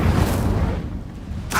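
Incendio fire spell cast in the Hogwarts Legacy video game: a close, loud rumbling burst of flame that roars steadily and fades toward the end, followed by a short sharp flare.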